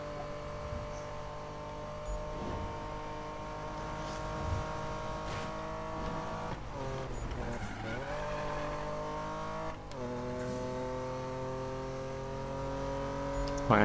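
A car in the Need For Speed racing game revs hard through a race, with sustained engine drone shifting pitch through gear changes and a brief tire squeal mid-drift, loud and continuous.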